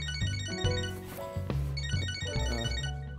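A mobile phone plays a loud, melodic ringtone that repeats a bright electronic tune of rising and falling notes. It fills the room close by, with no talk over it.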